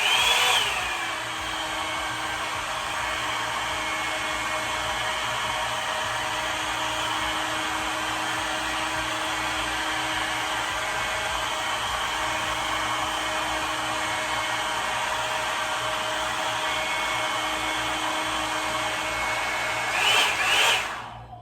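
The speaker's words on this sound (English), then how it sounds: "So I'm gonna start the blow dryer and show you how this goes." A handheld hair blow dryer styles bangs, a steady loud whirring blast running unbroken for about twenty seconds, with a short shift in tone near the end.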